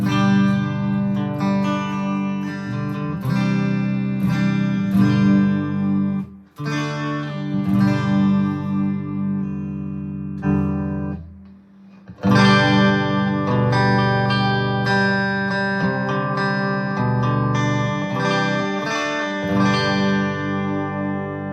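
Clean electric guitar through a Getaria GWS-8 wireless system plays chords and picked notes with a reverb wash trailing each phrase, briefly pausing twice before continuing.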